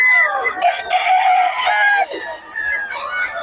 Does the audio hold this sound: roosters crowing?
yes